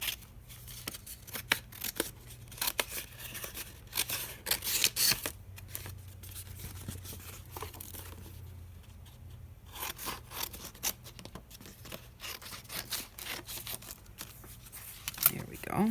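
Scissors snip through paper for a decorated journal page, with quiet intermittent cutting and rustling sounds while a person talks softly nearby.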